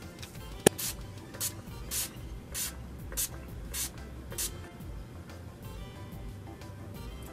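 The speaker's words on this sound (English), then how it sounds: "I'm gonna spray my face with my favorite setting spray ever, the All Nighter Pollution Protection Setting Spray" All Nighter Pollution Protection setting spray mists onto a face in about seven short, evenly spaced hissing bursts, close and fairly soft, with no talking.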